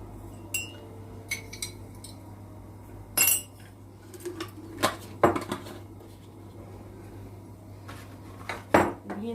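A metal spoon clinks against a cup while instant coffee is stirred in at home, with sharp, irregular taps and scrapes spread across a quiet kitchen background.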